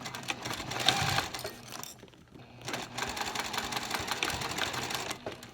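A sewing machine runs in steady, rapid stitching bursts, briefly pausing before resuming its busy mechanical whir.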